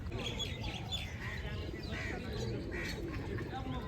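Pigeons coo steadily outdoors, mixed with scattered bird chirps over a dense bed of background noise and people talking nearby.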